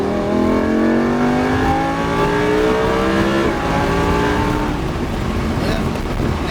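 A race car engine on a track accelerates hard toward the red marker, a loud continuous roar with rising harmonic pitch over several seconds before easing slightly near the end.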